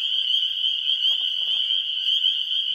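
A dense chorus of spring peeper frogs fills a marsh with a steady, loud, continuous high peeping, unbroken across the whole stretch.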